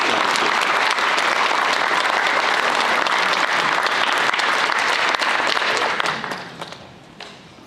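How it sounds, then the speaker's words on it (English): A crowd at a high school National Signing Day event applauds a player signing his scholarship, dense steady clapping filling the room before tapering off into a few scattered claps at the end. "Another round of applause for Tanner as he signs his scholarship."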